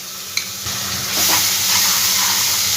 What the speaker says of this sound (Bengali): এবার আমি এর মধ্যে আদা রসুন বাটাটা দিয়ে দিলাম